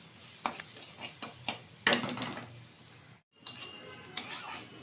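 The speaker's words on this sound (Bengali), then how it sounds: "পেঁয়াজটা আর লঙ্কাটা খুব ভালোভাবে তেলের সাথে ভেজে নিয়েছি" Chopped onions and green chilies fry in hot oil, with a steady sizzle broken by several sharp clinks of a spatula or pot, a brief silent gap, then the sizzling returns.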